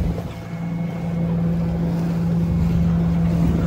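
A sailboat's motor drones steadily at sea, a low constant hum running throughout beneath broadband wind and water noise.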